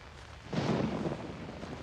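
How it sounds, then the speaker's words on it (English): Thunder from a lightning strike in the horror game Outlast: a sudden loud, broad rumble that swells in and keeps rolling steadily to the end, with no talk. "God, I'm jumping at lightning"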